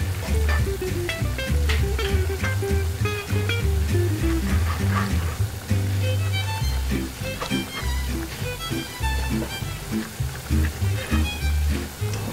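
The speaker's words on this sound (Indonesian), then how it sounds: "kita aduk sampai rata" Spaghetti stirred in a frying pan for aglio olio, a steady sizzle and scraping of the pan running under loud background music with a rhythmic beat.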